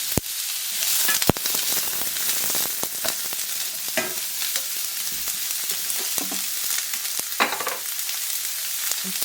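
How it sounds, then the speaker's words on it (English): Onions with salt sweat in sunflower oil and butter, giving a steady, close frying crackle that runs throughout, dotted with sharp utensil clicks and taps against the pan. "Some salt to help sweat out the onions."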